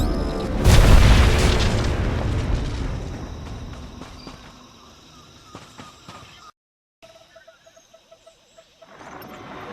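Blaster fire and a heavy explosion in Star Wars: The Old Republic, one loud booming blast that rumbles and decays over several seconds, then a near-silent gap and light clatter.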